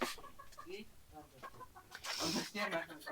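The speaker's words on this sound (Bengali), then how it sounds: "পাকিস্তানের জাতীয় পাখির চকর যেটা এই চকরগুলা রাইখা দিছি" Caged chukar partridges call on a farm beside a pen of ring-necked pheasants, giving a run of clucking, chattering notes at close range with other bird calls and background noise mixed in.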